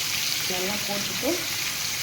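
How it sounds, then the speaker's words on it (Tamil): Marinated chicken for tandoori masala frying in a cup of oil, giving a continuous close hiss of sizzling with a faint voice in the background. "நல்லா ஃப்ரை பண்ணிடணும்."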